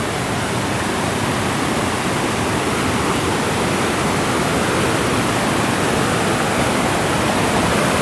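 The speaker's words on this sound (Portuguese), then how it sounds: "Vou ver se eu consigo mostrar a cachoeira bem de cima aqui" Cachoeira da Chave, a waterfall in Votorantim, roars as a loud, unbroken rush of falling water heard from close above, steady throughout with no voices over it.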